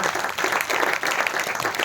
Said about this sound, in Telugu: గట్టిగా చప్పట్లు కొట్టండి దేవుడి